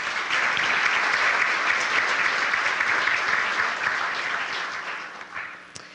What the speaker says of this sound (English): Please give a round of applause for Felicia.